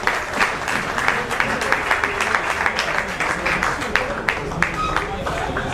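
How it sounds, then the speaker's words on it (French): A standing audience at a student entrepreneurship talk applauds itself, loud sustained clapping with sharp individual claps throughout, with some cheering under it. "Applaudissez pour vous-même."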